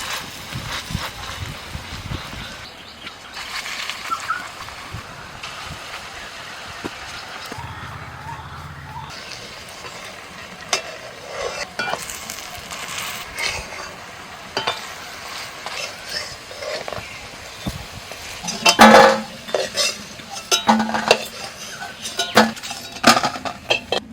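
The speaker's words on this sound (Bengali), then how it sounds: "কড়ায় তেল দিয়ে দিয়েছি তেলটা হয়ে গেছে এবার বড়াগুলো ভেজে নিচ্ছি" Fish fritters frying in hot oil in a wok outdoors at night, a soft continuous sizzle broken by clinks and scrapes of a metal utensil against the pan, louder toward the end.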